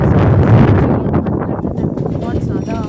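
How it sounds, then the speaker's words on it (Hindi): Strong storm wind buffets and roars against the microphone near a home, loud and gusty at first and then easing slightly, with someone talking over it. "बहुत ज़्यादा हवा चल रहा है"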